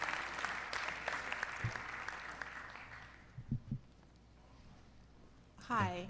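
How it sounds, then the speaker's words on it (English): An audience gives a round of applause during a Q&A session with a doctor, clapping for the first few seconds and then dying away into quiet room tone, with a few scattered sounds and a voice near the end. "I'll give you a round of applause."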